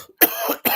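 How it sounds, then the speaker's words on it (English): A person coughs twice in quick succession, close and fairly loud, with a short rough burst followed by a second shorter cough. "Gosh, dang, this cough today."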